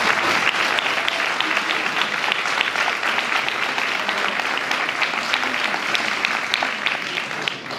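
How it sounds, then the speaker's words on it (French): Dense audience applause fills the room steadily from start to finish, many hands clapping close together at an even level. "je voudrais maintenant que vous vous applaudissiez pour la créativité, la passion et la solidarité dont vous faites preuve"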